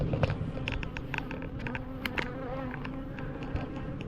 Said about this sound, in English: These bees are busy.